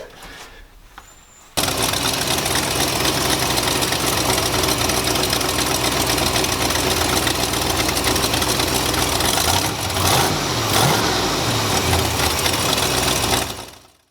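A 1976 Ford F250 engine idles roughly nearby, a loud, constant rumble that begins abruptly and runs for over ten seconds with slight unevenness, rising briefly partway through before cutting off, after a quiet start.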